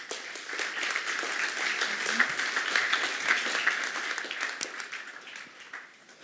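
Audience clapping for a speaker being called onto a stage at an art market talk, a dense, steady wash of many hands that slowly fades toward the end.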